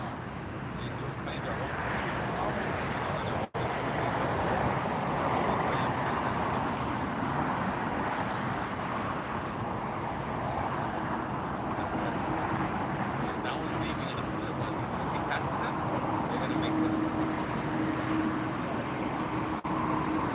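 An Aer Lingus A330 taxis past at LAX at night, heard as a steady, distant jet engine rumble and broadband roar holding for the whole stretch, with people talking over it.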